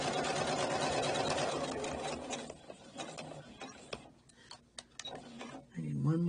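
A domestic sewing machine runs a few stitches forward and then back along a convex curve in fabric. A steady mechanical whirr gives way to scattered ticks and clicks, with a voice talking over it.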